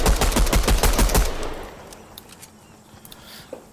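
Machine gun fire in a Fortnite match: a rapid, loud burst of automatic shots through the first second and a half, then fading echo and a few faint distant pops.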